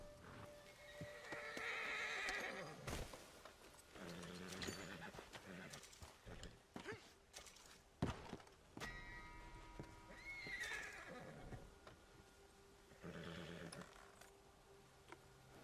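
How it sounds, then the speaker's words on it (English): Horses in Red Dead Redemption 2 neigh and whinny loudly as they flee, with quick hoofbeats clattering beneath, several whinnies rising and breaking off across the stretch, fairly close and vivid. "I get the horses to flee."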